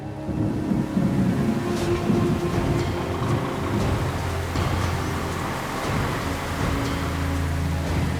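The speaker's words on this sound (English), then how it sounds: "The rain took this driver by surprise." Steady rain heard from a road in the Andean mountains, a constant wash of patter mixed with a low vehicle rumble and occasional sharper taps.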